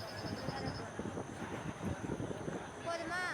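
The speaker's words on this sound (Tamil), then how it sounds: "நல்ல காற்று, மலை உச்சியில் இருக்கு இல்லையா? செம்ம காற்று." Strong wind on a hilltop at Rameswaram buffets the microphone with a constant gusty roar, while a person talks over it.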